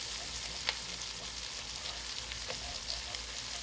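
Onions and garlic brown in a pan for a seafood étouffée, giving a steady close sizzle with occasional soft scrapes and ticks of stirring, and no one talking.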